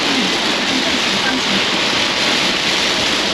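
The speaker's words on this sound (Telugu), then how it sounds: "చూసారుగా వాన అసలు మామూలుగా లేదు రోడ్ అంతా నిండిపోయినాయి" Heavy rain pours over a flooded highway in China, a dense, loud, unbroken roar of falling water throughout.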